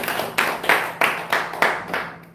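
Several slow, separate hand claps from an audience at a Korean church spirituality lecture, about five or six evenly spaced sharp claps over a couple of seconds, moderately loud with no talking.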